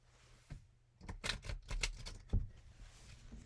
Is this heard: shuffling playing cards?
yes